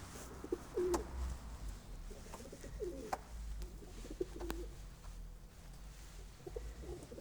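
Faint, scattered pigeon coos drift in from a short distance over a low background hum, with occasional sharp clicks and taps.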